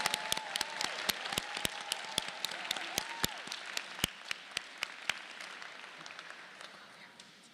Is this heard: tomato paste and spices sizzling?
no